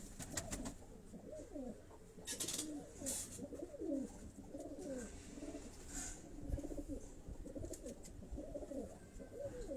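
A pigeon from a champion flock coos in soft, repeated rolling calls, faint and close, over a dull background hum with a few sharp clicks.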